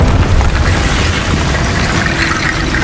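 A Confringo spell explosion from Hogwarts Legacy booms loudly and continuously, with deep low rumble and dense crackling spread across the whole blast, no speech over it.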